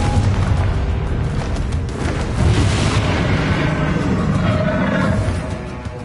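Confringo blasting spell in Hogwarts Legacy, a loud sustained booming explosion with a dense rumbling roar that holds steady for several seconds before easing slightly at the end.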